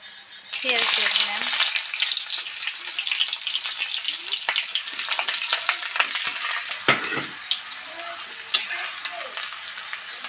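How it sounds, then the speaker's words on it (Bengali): Oil hits a hot wok and erupts into a loud, dense sizzle that holds steady, with crackles and occasional utensil scrapes and knocks throughout. "কড়াই গরম হয়ে গেছে তেলটা দিয়ে দিই"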